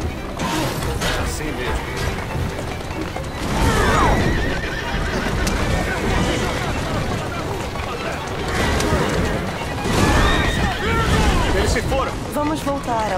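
In Assassin's Creed Syndicate, a horse whinnies loudly twice over the steady clip-clop of galloping hooves, with game ambience and a voice talking over it.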